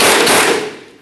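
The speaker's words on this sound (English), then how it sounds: "We'll start loosening this 21mm mounting nut" A 21mm mounting nut on the rear lower control arm of a 2008-2012 Jeep Liberty breaks loose in one loud burst of rapid impact-wrench hammering, close up, that fades within about a second.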